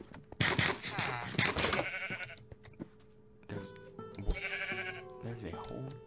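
Bleating sheep in a Minecraft-style game, several short bleats in the first two seconds and again later, with game clicks and chimes around them.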